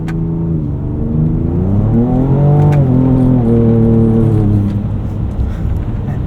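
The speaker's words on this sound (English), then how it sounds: "Show you what this truck can really do in the snow." A Ford Ranger Raptor pickup on BFG KO3 tires engine revs and whines as it pulls hard through snow in 4 auto, pitch rising then falling, with faint rattling on top and no talking.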